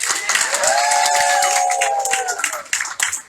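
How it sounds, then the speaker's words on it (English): An audience at a German-American carnival society event in Cincinnati applauds the royal couple, clapping under a sustained tonal sound and voices, tapering off unevenly toward the end. "let's give a round of applause for this royal couple"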